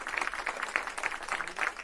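A crowd claps steadily and continuously at a NASA Mars landing, a dense wash of many hands at moderate volume with no voices standing out.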